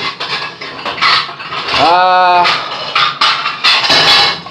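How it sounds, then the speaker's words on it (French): Dishes and cutlery clatter as a dishwasher is emptied, with repeated close clinks and knocks of plates and utensils and a brief squeaky scrape in the middle. "c'est le vidage de la vaisselle"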